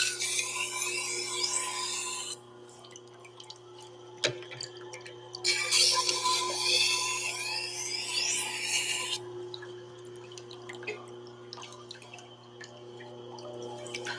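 A knife is sharpened with two long, bright rasping strokes separated by a quiet gap, close and steady over a constant low hum, with scattered light ticks between.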